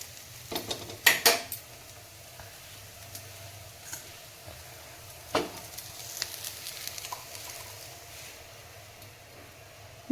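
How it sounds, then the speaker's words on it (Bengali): Bitter gourd slices frying in a pan, a soft steady sizzle under scattered metal clinks and scrapes of a utensil against the pan, with a few sharper knocks. "প্রায় ভাজা হয়ে গেছে, আমার উচ্ছে ভাজা হয়ে গেছে।"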